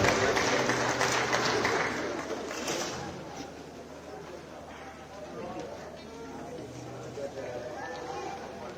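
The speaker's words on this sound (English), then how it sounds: "A round of applause as he comes to the podium." Applause at the Capital Markets Awards ceremony as a deputy minister heads to the podium, a steady crowd clapping that fills the hall at first and slowly thins, with voices murmuring underneath.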